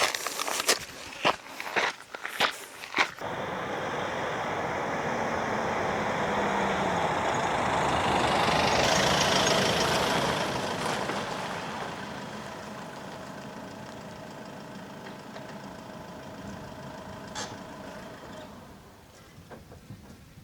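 A tractor in the Wheatbelt countryside rumbles steadily, its engine noise swelling to a broad roar in the middle and then fading, with close footsteps and handling knocks at the start.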